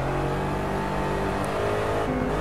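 A car cruises along a California highway circuit in Project Cars, with a steady, loud engine drone and road noise and no clear shifts over the short stretch.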